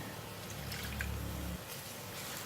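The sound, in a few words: adding water to sambal cooking in a pan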